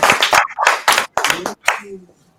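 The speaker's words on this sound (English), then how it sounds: "We can have an applaud here because we're a few people." Applause from a small conference audience, a few people clapping in uneven bursts with short gaps, fairly close, fading out near the end with a faint tone trailing.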